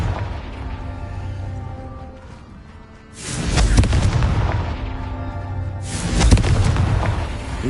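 Confringo spell explosions in Hogwarts Legacy on Hard difficulty: two loud booming blasts a few seconds apart, each with a sharp crackling burst and a rolling low rumble, over a lower background hum.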